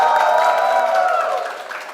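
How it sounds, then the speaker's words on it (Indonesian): An audience at a film press event for the Malin Kundang legend gives brief applause for Rio and Farah, a dense wash of clapping that fades slightly toward the end, with a tonal hum in the room. "Tepuk tangan untuk Rio dan Farah."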